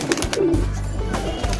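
Pet pigeons gathered at a big bathing bowl give soft, repeated throaty coos, near and fairly steady, with faint background noise and no talking.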